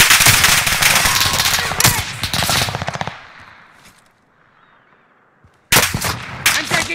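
Rapid automatic gunfire from Call of Duty: Modern Warfare, loud dense bursts for about three seconds, then a quiet stretch of low rumble before another sharp burst of shots returns near the end.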